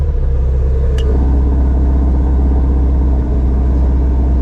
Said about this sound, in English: Pop it in sport mode. And sport exhaust. Let's have a fire up.